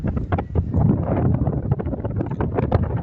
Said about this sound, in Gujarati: થોડો પવન આવતો હશે